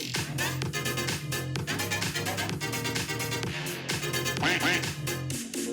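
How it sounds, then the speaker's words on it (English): Duck quacks play from an on-screen video during a youth group game, sounding amid loud continuous music with overlapping sound and some voice-like content, filling the whole stretch. "whenever they hear a quack on screen"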